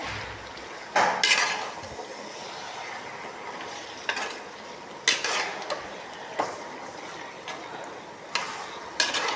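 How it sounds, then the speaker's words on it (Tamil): Chicken for a hotel-style chicken gravy being stirred in a pan, a low steady sizzle punctuated by repeated sharp metallic scrapes and clanks of the spoon against the pan, close and without voices. "சிக்கன் போட்டு நல்லா பிரட்டிடலாம்"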